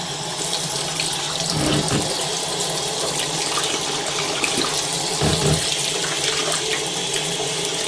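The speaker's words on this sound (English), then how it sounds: "I start to fill the sink." Steady rush of tap water pouring into a sink for washing wool, continuous and close, with a few brief thumps and splashes partway through.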